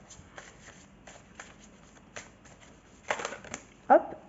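A deck of oracle message cards shuffled by hand, a rapid run of light papery flicks and riffles, close and clear, that builds into a louder burst near the end.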